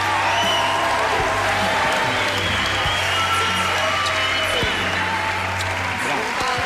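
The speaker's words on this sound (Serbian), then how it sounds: "molim vas još jedan aplauz" A studio audience claps and cheers throughout at a Serbian televised singing competition duel, with steady dense applause and a voice talking over it.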